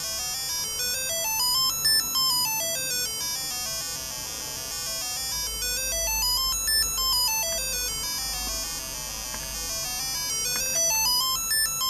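Chip-tune music from a Yamaha YMZ294 sound chip plays on its own: bright, buzzy square-wave arpeggios cycling steadily over a soft bass pulse, with no voices.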